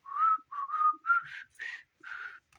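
A person whistles a 1960s song melody alone, a string of clear, sustained notes in short phrases with brief pauses between them.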